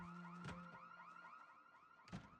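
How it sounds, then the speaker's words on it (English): A house alarm in the video game Project Zomboid rings in a repeating warbling electronic tone, faint and steady, with two sharp knocks cutting through. "I can wait until the alarm stops going on"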